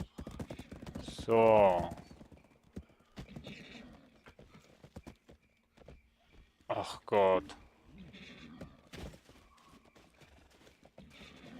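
Horse hooves clip-clopping and two loud whinnies in the video game Black Desert Online, the neighs standing out sharply between sparse footfalls, with someone talking quietly in German.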